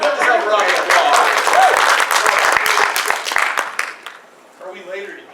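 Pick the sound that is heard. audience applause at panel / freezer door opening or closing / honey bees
audience applause at panel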